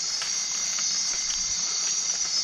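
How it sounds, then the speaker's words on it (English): Steady rain hisses and patters continuously in a Costa Rican forest, a constant close wash of sound with no voices. "Well, it's raining, as you can tell."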